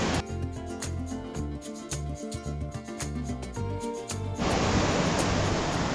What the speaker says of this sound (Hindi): बीच में से ये झरना बह रहा है और ऊपर से बारिश है